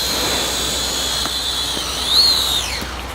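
A small camera drone hovers and slowly descends with a steady high-pitched buzzing whine that rises slightly near the end, constant and fairly close with no talking.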